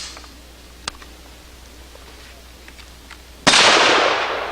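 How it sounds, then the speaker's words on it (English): A single sharp, loud shot from an old M1 carbine rifle bursts out near the end and rings off with a fading tail, after quiet outdoor ambience and one faint earlier click. "you can take the little M1 carbine here and watch this"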